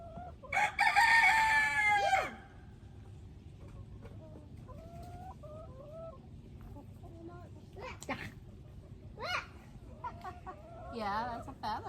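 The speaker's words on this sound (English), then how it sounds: "Look at these chickens over here curious at the camera." Chickens in a garden: a rooster crows loudly at the start, then softer clucks and chirps follow from birds nearby, with people talking intermittently.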